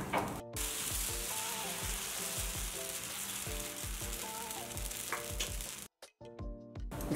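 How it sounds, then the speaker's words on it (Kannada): Dosa batter sizzles and crackles on a hot pan over a low flame, a steady close frying hiss that runs almost without a break before cutting off briefly near the end and resuming. "ಈಗ ಒಂದ್ಸರಿ ಚೆನ್ನಾಗಿ ಈ ಥರ ಮಿಕ್ಸ್ ಮಾಡಿಕೊಂಡು ದೋಸೆ ಹಾಕ್ಕೊಳ್ಳೋಣ."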